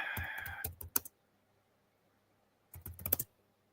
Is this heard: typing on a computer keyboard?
yes